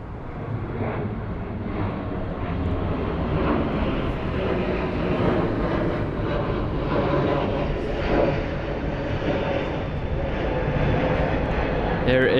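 A Lufthansa airliner arriving from Frankfurt passes low and loud over Heathrow during Storm Kathleen, its broad engine roar steady throughout under wind noise, with a person talking over it.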